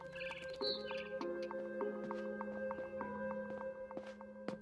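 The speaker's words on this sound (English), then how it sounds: "Then I heard chirping outside my window. It was a barn swallow going back to her nest." A barn swallow chirps outside a window in the video game What Remains of Edith Finch, with faint, brief tweets scattered over a quiet, steady tonal game ambience.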